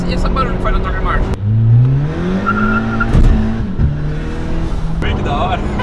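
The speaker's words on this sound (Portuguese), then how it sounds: "E esse barulho que faz na troca de marcha?" Turbocharged Volkswagen Jetta, adapted for a quadriplegic driver, on a night drive: the engine revs rise, then drop sharply at a gear change before building again. Tire noise is heard, and a voice is also audible.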